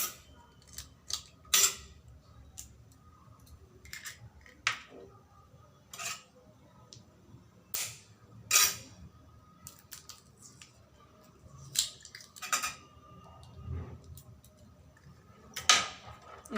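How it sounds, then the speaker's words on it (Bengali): Egg batter for a Maggi omelette being mixed in a bowl: scattered clinks and taps of a utensil against the bowl, irregular and fairly close, with quiet pauses between. "এখন আমি ডিমের ব্যাটারটা তৈরি করে নিচ্ছি"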